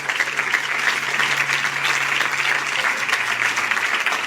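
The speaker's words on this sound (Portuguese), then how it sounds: "Você pode aplaudir Jesus aí" A church congregation applauds during a sermon, a steady, even wash of many clapping hands sustained throughout, with a faint low hum underneath.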